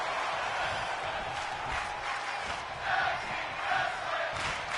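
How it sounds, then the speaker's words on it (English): Arena crowd at a tag team pro wrestling match, a continuous roar of many voices swelling into rhythmic chanting and cheers, loud and sustained throughout. "Crowd chanting for tag team wrestling."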